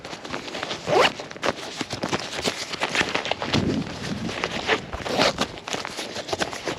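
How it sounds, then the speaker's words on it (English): A zipper on a hiking backpack pocket is pulled open and closed several times close up outdoors on a day hike, a series of quick scratchy rasps mixed with soft footsteps and handling. "It's got a couple of zippers in here."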